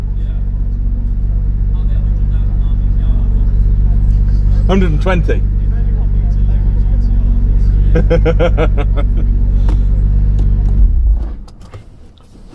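A Nissan GTR engine idles with a steady, loud low rumble, heard up close while people talk over it, before the engine cuts off and the sound drops away near the end.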